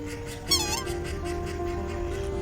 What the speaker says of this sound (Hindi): ये सफेद सफेद बतख देखिए